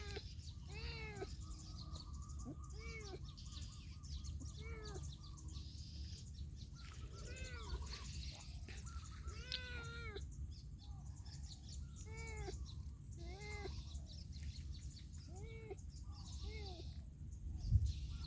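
A wild cat caught in a fish trap gives repeated meows and yowls at a moderate distance, while birds chirp steadily in the outdoor background.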